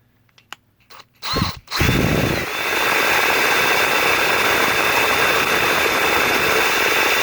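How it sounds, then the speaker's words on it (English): A few clicks and brief whirs give way to a power drill running continuously at high speed, boring steadily through material for a guitar string retainer, loud and close. "let's drill the other hole"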